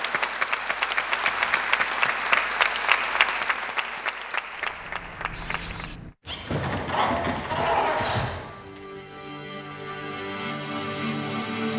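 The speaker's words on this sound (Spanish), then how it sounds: "Les pido un fuerte aplauso para todos ellos." Applause from an audience at a ceremony celebrating the university's 200th anniversary: dense clapping fills the first few seconds, breaks off abruptly, then comes back more loosely and fades under lingering tones.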